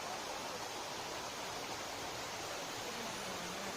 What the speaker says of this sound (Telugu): వాటర్ చూడండి ఎలా వస్తుందో కొండ మీద నుంచి.